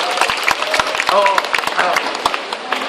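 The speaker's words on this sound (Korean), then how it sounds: "뒤에 분들 박수 한번 쳐주세요" Audience applause at a Korean street talk event on national security, dense overlapping claps from a crowd, loud and close, with a voice briefly rising over the clapping.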